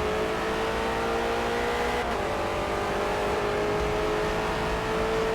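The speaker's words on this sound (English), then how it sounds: "Solid burning the tires through that corner in 2nd gear." Ford race car in Forza Motorsport pushing hard through a corner in second gear, a steady loud engine drone with tires scrubbing and squealing under it, continuous and close throughout.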